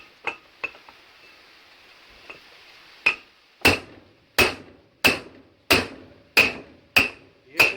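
A rear wheel bearing on a Chevrolet Matiz is hammered into place. A few light taps give way to a run of eight loud, evenly spaced metallic whacks, each ringing briefly, up close.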